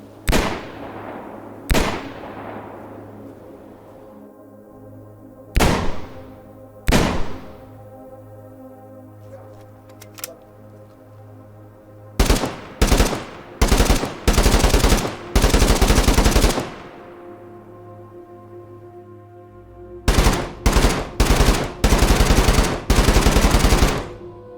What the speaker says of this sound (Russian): сейчас выстрелы в помещении и снаружи звучат по-разному